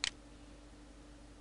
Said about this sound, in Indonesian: Kemudian double klik pada bagian